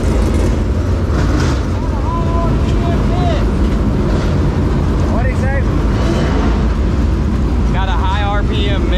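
Dirt race cars running hot laps at Eldora Speedway during the World 100 opener, a dense, loud roar of engines and wind with rising and falling revs, plus muffled voices in the background.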